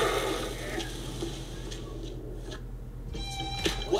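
A cat in the video game Dead Island 2 gives a short, faint meow toward the end, set against a steady background of game noise.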